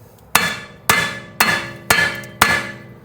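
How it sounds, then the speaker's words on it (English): Hammer blows on a Ram ProMaster City ball joint at the steering knuckle during control arm removal: five loud, evenly spaced metallic strikes, each ringing briefly before the next, alone without talk. "then take a hammer to it"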